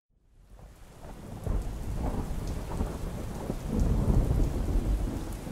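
A thunderstorm rises out of silence into heavy rain, with a deep rumbling of thunder that builds and swells over a continuous wash of rain on surfaces.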